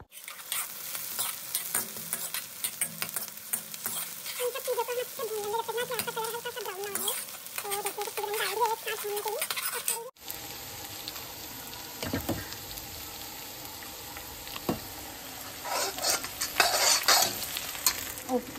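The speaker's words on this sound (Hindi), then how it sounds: "और अब लगा लेते हैं हम कढ़ी में तड़का अपनी।" Garlic, fenugreek, cumin, dried red chillies, mustard seeds and onion sizzling and frying in hot oil as a tempering for kadhi, with steady crackle, spoon stirring and a shift to brighter spattering partway through, close and continuous.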